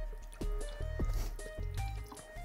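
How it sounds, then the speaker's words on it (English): Thick, coagulated fake blood for zombie makeup stirred with a plastic fork, giving close, wet squishing and dripping sounds in irregular bursts with no talking. "I'm just going to kind of mix everything together, and as you can see, I'm just using a plastic fork"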